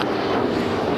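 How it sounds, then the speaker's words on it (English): Airplanes passing overhead outdoors at a World Peace and Prayer Day gathering, a steady broad engine roar filling the whole moment, fairly loud and continuous with no voices. "apart from the planes flying here"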